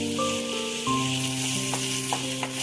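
Onion frying in tempering oil with green chilli, carrot and peas for vermicelli upma makes a soft, steady sizzling hiss under sustained tonal background sound.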